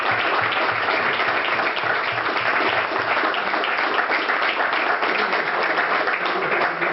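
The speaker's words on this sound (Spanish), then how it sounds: "voy a pedir un fuerte aplauso" Strong sustained applause from an audience at a talk on lunfardo slang, even and dense for the full seven seconds with no pauses.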